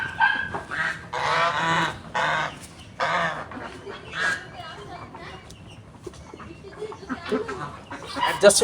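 Geese and ducks on a farm honk and squawk loudly in bursts, close by, with people talking softly among the calls.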